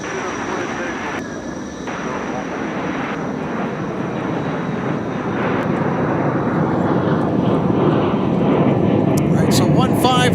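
A heavy jet airliner at Minneapolis-St. Paul airport lines up on runway 30 left and powers up for a takeoff to Paris, a loud steady engine roar that builds over several seconds, with a voice talking over it.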